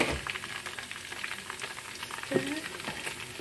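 Onions fry in hot oil for egusi soup, a continuous close crackling sizzle with a soft utensil knock partway through.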